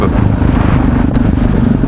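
A Yamaha XT660X single-cylinder motorcycle idles and runs close by during wheelie practice, a loud, steady low engine rumble with a short scraping clatter partway through.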